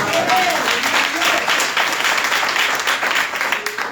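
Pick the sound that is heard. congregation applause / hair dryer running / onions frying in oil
congregation applause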